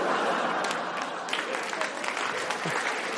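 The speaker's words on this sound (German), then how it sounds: "Applaus von David Rocco" A crowd applauds, a dense continuous wash of clapping at moderate distance that holds steady for a few seconds with a few sharper claps standing out.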